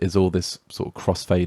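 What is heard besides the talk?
None of the usual background noises is heard.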